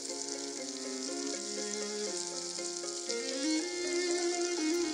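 A pan frying during cooking in the video game Florence gives a steady sizzling hiss beneath soft, gently shifting music, continuous for about five seconds with no talking.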